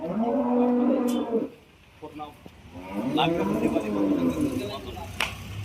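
Two long, deep dairy cow moos at a cattle market, one near the start and another drawn out in the second half, loud and close, with a brief quieter gap between.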